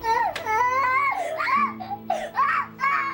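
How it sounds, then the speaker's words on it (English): A young boy screams and wails loudly at close range, his cries rising and falling in pitch in repeated bursts inside a family home. "screaming at the top of his lungs"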